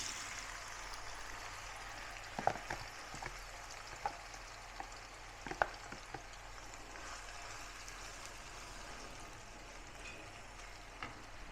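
Sambal and chili frying in oil in a pan, a faint steady sizzle with a few small pops and crackles.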